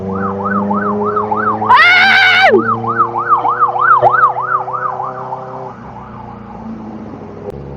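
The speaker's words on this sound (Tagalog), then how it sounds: "pilit niyang pumasok, may ambulansya nga" An ambulance siren wails loudly and close in a steady rising-and-falling cycle, with a brief harsher horn-like blast partway through, then fades away; a voice exclaims once.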